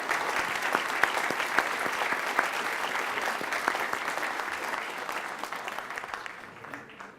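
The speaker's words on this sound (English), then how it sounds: "let's give them a round of applause" Sustained audience applause at an MIT graduation ceremony in 2012: a dense, steady wash of many hands clapping that slowly thins and fades toward the end.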